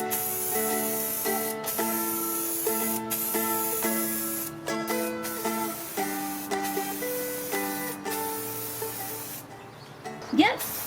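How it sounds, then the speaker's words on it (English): A rattle can sprays gloss black prime-and-paint onto the gas tank of a Yamaha SR500 motorcycle, with repeated close hissing bursts heard beneath steady background music. "this prime and paint stuff in gloss black. So that's why they're called rattle cans"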